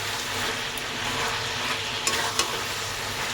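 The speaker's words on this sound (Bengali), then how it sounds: "এখন ভালো করে চিকেনটাকে কষিয়ে নেবো" Chicken stir-fried in a pan, a steady close sizzle of frying with scraping spatula strokes and a couple of brief clinks, continuous and fairly loud, no talking.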